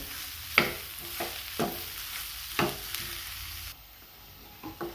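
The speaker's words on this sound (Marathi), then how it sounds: "आता हे सोयाबीन घालूयात आपण हे छान असे मिक्स करून घेऊयात" Soybeans being stirred in a pan with roasted spices: a quiet sizzle broken by about half a dozen distinct scraping knocks of the spoon against the pan at uneven intervals, close by, with no voices.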